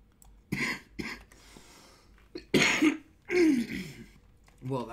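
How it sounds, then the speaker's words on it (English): A person coughs and clears their throat in several short, harsh bursts spread over a few seconds, close to the mic, during a session of the game Savage Lands. "Oh, I'm coughing like a motherfucker."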